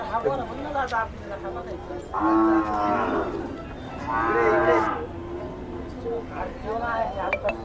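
Khillar bulls moo in long, low bellows at a cattle market in Sangola, two prominent calls close by, amid a crowd's chatter and voices.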